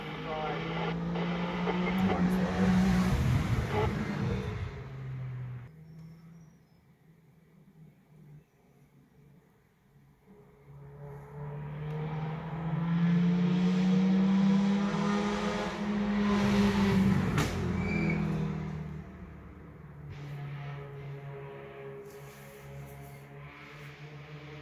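A Corvette race car on a Targa Tasmania rally stage at Weldborough Pass roars past on a forest road, engine note rising, fading, then building again as it approaches and goes by, with people talking nearby.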